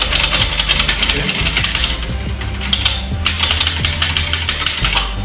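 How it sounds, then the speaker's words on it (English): Manual typewriter being typed on at an exhibition, a close, rapid clatter of key strikes with a few sharper mechanical clacks and a bright ding of the end-of-line bell, with no talking. "So you hear the bell, it tells you that okay, you have reached to the end of the page."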